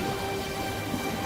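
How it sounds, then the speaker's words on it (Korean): Waves lapping on the Sea of Galilee, a continuous broadband wash of water, loud and unbroken, heard alone for a brief moment. "갈릴리 호수 파도 소리가 들리시나요?"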